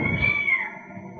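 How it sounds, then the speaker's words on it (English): A single cat meow, a clear drawn-out cry that rises and then falls away over about a second, close and alone without any voices. "Cat. Yes."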